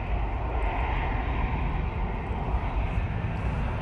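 A Ryanair airliner's jet engines roar at windy Manchester Airport, a loud, dense, unbroken rumble across the whole short stretch.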